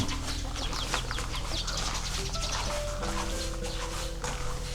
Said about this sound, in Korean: 닭이다 닭.